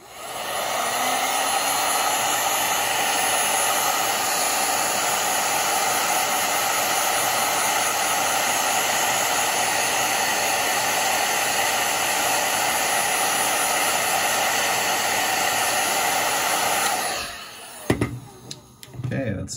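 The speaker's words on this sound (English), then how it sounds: "Now time to hit it with the heat gun." Heat gun blows a loud, steady stream of hot air for shrinking tubing on a homemade adapted-toy switch, a continuous close whooshing hiss that cuts off abruptly near the end, followed by a few brief handling clatters.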